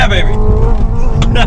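A Hyundai Ioniq 5 N accelerates hard on a race track with its 40-horsepower boost engaged, a loud, close electric whine with simulated gear-shift tones and some tire noise.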